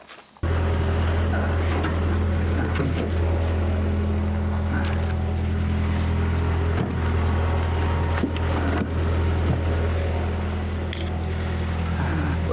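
A skid steer loads cut wood nearby, its engine droning loud and steady throughout with scattered knocks and scrapes of logs in the bucket.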